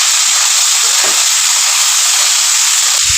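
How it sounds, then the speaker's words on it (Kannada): Cooked vegetables frying in hot oil in a home kitchen, a loud continuous sizzle and hiss with faint stirring knocks now and then. "ಹಾಗಾಗಿ ಇದು ನೀಟಾಗಿ ಎಣ್ಣೆಯಲ್ಲಿ ಫ್ರೈ ಮಾಡ್ಕೋಬೇಕು."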